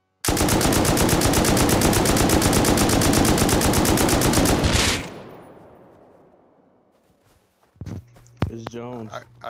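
AK rifle gunfire from the video game Rust rattles in a long, loud, rapid automatic burst lasting several seconds, then fades into reverb, followed by a few sharp clicks and thumps.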